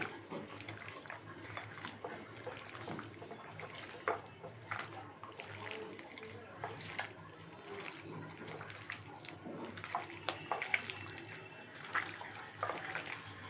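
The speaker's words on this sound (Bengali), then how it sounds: "এখন আমি এগুলো মিক্সিং করে নেব, ভালো করে মিশিয়ে নিতে হবে" Chicken being hand-mixed with marinade for seekh kebab, soft wet squelching and slapping in a bowl, steady and close with irregular louder squishes.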